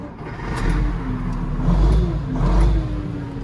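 A Case 1455 tractor engine revved from cold, a close, loud mid-pitched engine note rising and falling in two swells, with a whirring tone over a deep rumble.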